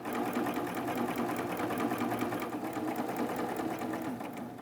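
A serger sewing machine runs steadily, stitching around the edge of a crochet project with decorative thread; the whirring hum is close, loud and continuous throughout, with no pauses.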